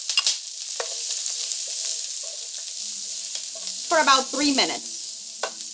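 Chopped onion sautés in a tablespoon of olive oil, giving a steady close sizzle with occasional stirring scrapes. A person talks briefly over it toward the end.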